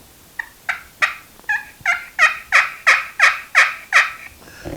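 A handheld turkey call imitating a hen turkey's yelp: about a dozen short, nasal yelps in a steady rhythm, starting soft and building louder, close and alone with no talk.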